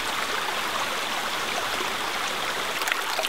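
Creek water flows steadily where the drive pipe of a hydraulic ram pump is set upstream, a continuous close rushing and trickling babble with no talk.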